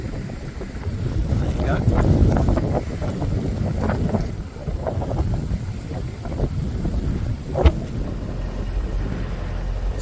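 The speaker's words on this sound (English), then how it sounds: "wind is blowing the boat over to the pontoon, which is no bad thing" Wind gusts buffet the microphone as a narrowboat on the canal drifts toward a pontoon near a lock, in uneven rumbling bursts, with a brief spoken remark.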